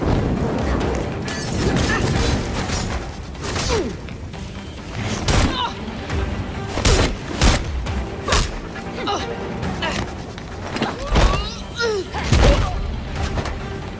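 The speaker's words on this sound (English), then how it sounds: "Enjoying the fireworks." Sharp cracks and booming bursts of fireworks explode repeatedly at irregular intervals in Gotham Knights, loud and close over a rumbling game background, with voices talking between the blasts.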